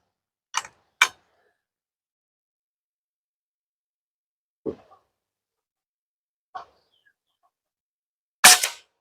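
AGI Falcon single-shot air rifle firing 13.43-grain pellets, heard as a few sharp, separate cracks and snaps spaced several seconds apart, with one louder shot at the end and no talk.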